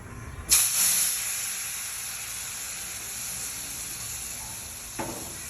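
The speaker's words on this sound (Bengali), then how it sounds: "সরিষাটা ফুটে থাকবে, এই সময় ডালটা ঢেলে দিয়ে দিব।" Dal poured into a hot mustard-seed tempering in a pan, a sudden loud hissing burst that settles into a steady sizzle, with another brief flare near the end.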